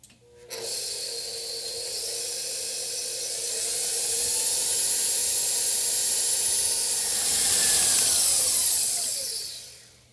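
A stand mixer paddle churns thick gluten-free pecan brownie batter, giving a continuous whirring motor drone with a scraping, rubbing texture that swells in the middle, close and steady before winding down at the end.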